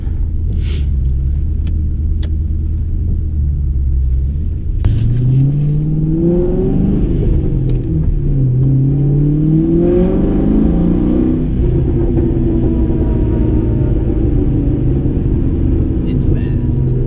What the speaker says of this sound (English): it's time to take the Mustang for a test drive